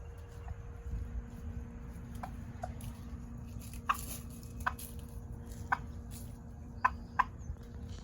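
Several turkeys gobble in short bursts at moderate distance, spaced irregularly over a steady low outdoor hum.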